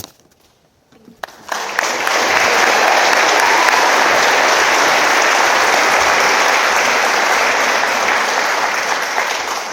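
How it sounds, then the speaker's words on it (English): After a quiet moment, a large audience at a company award celebration for Core Values Champions breaks into loud, sustained applause that holds steady to the end. "how about a large round of applause for all our Core Values Champions Award winners"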